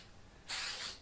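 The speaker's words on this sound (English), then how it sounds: "light mist of some spray tack" A brief hiss of spray tack aerosol released as a light mist, one soft burst of about half a second following a quiet pause, heard up close without talk.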